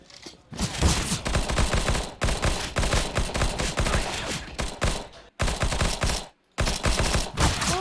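Rapid gunfire from a shooting video game played through an EGA Type H8 gaming headset, dense volleys of shots repeating loudly across the clip with two brief silent gaps.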